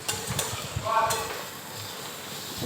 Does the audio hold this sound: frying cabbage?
yes